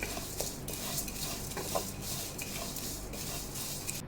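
A spatula stirs and scrapes dry flattened rice flakes (poha) around a pan while dry roasting them until crisp, a soft, steady rustle and faint crackle, close up, no voices.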